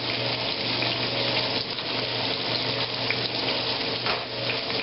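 Cooked shrimp being drained at a birthday cookout, with a steady, close rush of pouring water splashing into a sink, continuous and fairly loud throughout with a faint low hum beneath.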